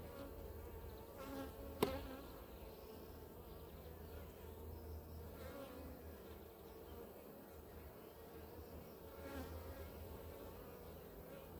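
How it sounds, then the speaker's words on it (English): A wasp buzzes around a feeding bowl in an apiary, a faint, steady insect drone that rises and falls softly, with a brief sharp click near the start and no talking. "there's a wasp just appeared in there"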